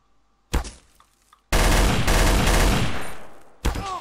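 Garry's Mod Trouble in Terrorist Town video game gunfire: a single loud shot, then a sustained close burst of rapid automatic fire lasting about two seconds, and another shot at the end.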